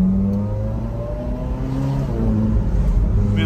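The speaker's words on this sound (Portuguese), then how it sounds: "Esse GT4 tá lindo, rodando, altura perfeita e fazendo um barulho absurdo também." A GT4 sports car engine runs loudly and steadily at close range, a deep droning tone holding throughout with slight rises in pitch.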